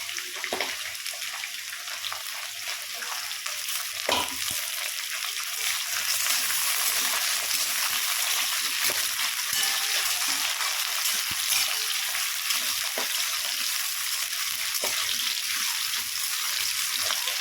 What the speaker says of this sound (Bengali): বন্ধুরা আলুটা ভাজা ভাজা হয়ে এসছে।